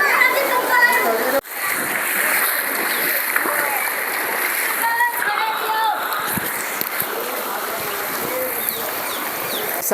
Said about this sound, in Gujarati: અહીંથી જો આખો વિસ્તાર અહીંથી આમ આમ પાણી આવે છે ફૂલ ગતિ સાથે